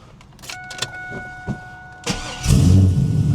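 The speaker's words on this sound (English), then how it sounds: "we got to make sure the car starts with our new key" A Chevy Camaro with a new key: a few clicks and chimes, then the starter cranks briefly and the engine catches, settling into a loud, rumbling idle close by.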